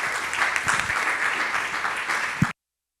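Sustained audience applause at a public talk on democracy, a dense wash of many hands clapping that holds steady for about two and a half seconds before cutting off abruptly.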